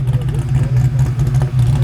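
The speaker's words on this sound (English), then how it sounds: "Car loud as shit." A loud Fox-body car engine revs aggressively up close, its deep throaty rumble pulsing and climbing in rapid bursts with no one speaking.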